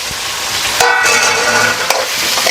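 Tomatoes go into sautéed onions in a hot pan on a home stove, and a loud, close sizzle hisses steadily. A few scraping stirs and brief tonal beeps cut through the frying.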